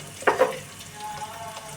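Tomatoes with salt frying in a pan for a keema, peas and cauliflower dish, a brief utensil scrape followed by a low, steady sizzle.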